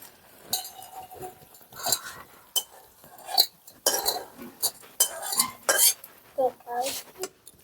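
Metal pot clanks and cutlery clinks as a pot of mango and fish roe sour curry is lifted off a village cooking stove, several sharp separate knocks and scrapes, close and fairly loud, no talk.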